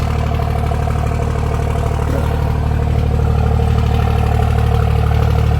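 A truck fitted with a new exhaust idles steadily nearby, a deep, even rumble with a low throb and light mechanical clatter holding constant throughout.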